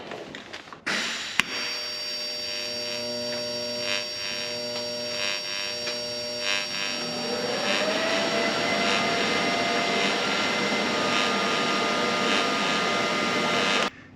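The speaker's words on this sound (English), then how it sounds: "attach this V-band to this part, and then we can weld the rest of the exhaust to that" Welding a V-band clamp flange onto an exhaust downpipe for a 1930 Dodge pickup with a Cummins engine, heard as a steady, close hissing buzz that starts abruptly and grows louder and harsher partway through, running unbroken to the end.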